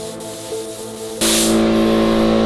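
A suction feed spray gun sprays primer onto a car floor pan, a loud, steady hiss bursting on halfway through and holding constant after a quieter stretch of background hum.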